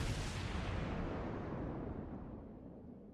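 Naval gunfire aimed at the Kuma cruiser in a warship video game, a single heavy booming salvo with a deep rumbling roar that fades steadily over a few seconds.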